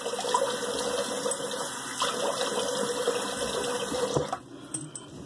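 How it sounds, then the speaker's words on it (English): Cold tap water running steadily into a sink while someone rinses a freshly shaved face, a constant close hiss and splatter that stops abruptly near the end. "Let me rinse with cold water and I'll be right back."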